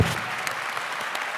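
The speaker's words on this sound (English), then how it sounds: "Round of applause" A room of people breaks into dense, steady applause after a debate result is announced, a full, close wash of clapping that lasts the whole moment.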